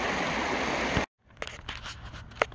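A creek rushes loudly past its bank for about a second in a dense, even flow, then cuts off abruptly to a quieter outdoor scene with a few faint knocks.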